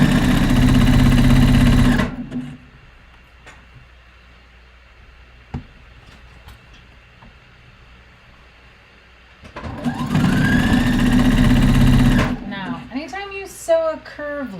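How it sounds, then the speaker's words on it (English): A sewing machine running in two loud bursts of steady motor hum and needle rattle, separated by a long quiet pause, close up, with a voice briefly at the end. "you shouldn't have a problem sewing over it"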